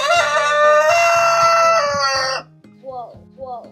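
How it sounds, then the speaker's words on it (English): Farm chickens in a coop, a long loud rooster crow followed by several short clucks, close and clear with faint voices underneath. "You hear the chickens in there?"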